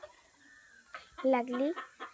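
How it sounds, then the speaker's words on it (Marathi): A hen gives a few short, squawky clucks close by, then a brief louder call, with quiet pauses between. "आणि इकडे बघा आमची कोंबडी किती ओरडायला लागली"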